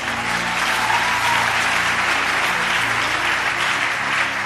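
A church congregation applauds steadily at close range, a dense continuous wash of clapping that holds at full level with no voices rising above it.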